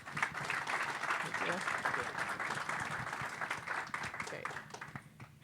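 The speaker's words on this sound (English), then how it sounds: "Please give him a warm round of applause." A conference audience applauds to welcome the permanent representative of the Bahamas to the United Nations onto the stage, steady clapping from many hands with some voices mixed in, fading near the end.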